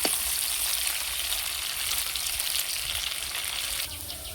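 Potato pieces fry steadily in hot oil for a patterned gourd and prawn curry, a dense, close, continuous sizzle with faint stirring, easing slightly toward the end; no voices.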